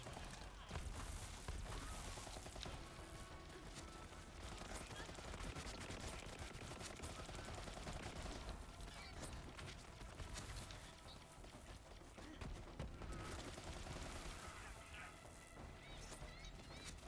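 Rapid automatic gunfire from two floating turret guns in Borderlands 3, a dense, continuous barrage of shots with crashes and impacts, loud and unbroken throughout, with faint talk beneath.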